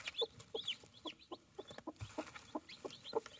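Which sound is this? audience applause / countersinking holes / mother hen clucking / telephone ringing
mother hen clucking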